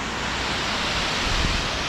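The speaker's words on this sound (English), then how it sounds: "There is a little mist down farther here from the waterfall." Narada Falls on Mount Rainier roars as a constant, broadband hiss of falling water, dense and unbroken, heard from nearby with no voices.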